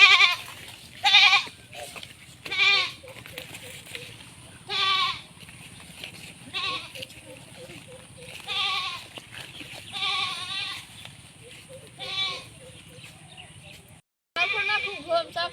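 Several goats bleat in repeated short, wavering calls, close by, with people talking at moments between the cries in a rural outdoor setting.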